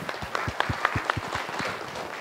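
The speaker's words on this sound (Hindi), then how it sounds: "जोरदार ताली।" An audience at a life-education seminar in Nathdwara, Rajasthan claps in a steady, moderately loud round of applause, with distinct individual claps audible throughout.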